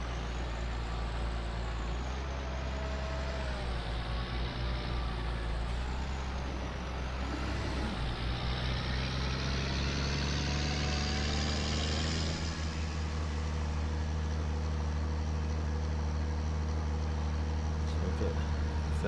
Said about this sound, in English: Like this little tractor.